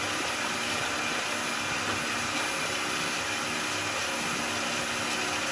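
A wood lathe spins at about 2,000 rpm, giving a continuous, even whirring drone with a faint high whine that stays constant throughout, close by and without talk.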